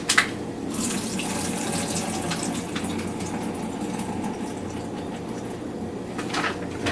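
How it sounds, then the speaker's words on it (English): Cooking liquid from boiled shrimp is poured off into a kitchen sink, a steady rushing splash of water running for several seconds, close and fairly loud, with a brief clatter at the start and no voices. "I'm going to pour as much of the liquid off as I can of the shrimp"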